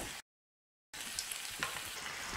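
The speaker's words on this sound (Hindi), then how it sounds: "एक स्पैचुला की सहायता से दाल को बीच बीच में चलाते रहें।" Moong dal frying in hot oil for crispy namkeen, stirred now and then with a spatula; a steady close sizzle runs alone after a brief silent gap, with a few light scraping touches.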